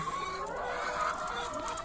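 Hens cluck steadily in a busy, overlapping chorus, fairly close, with no talking.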